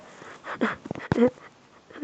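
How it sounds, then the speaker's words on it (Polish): Dogs playing together, giving short whimpers, yips and soft vocal bursts at close range, with a brief quiet human voice mixed in. "tam psy się bawią"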